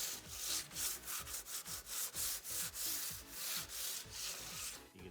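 Hand sanding along the edges of a silver and chrome mica flake table, steady back-and-forth rasping strokes in a regular rhythm, close and fairly faint, with no voices.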